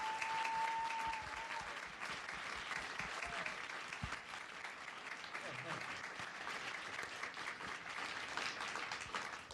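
Sustained applause from a large crowd at a NASA presentation of moon spacesuits fills the whole stretch, steady and dense, with a brief voice heard early on.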